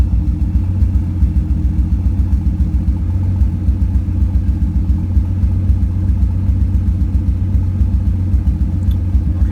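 A freshly tuned car engine idling smoothly, a loud close, even low-pitched rumble with a steady pulsing rhythm that holds throughout.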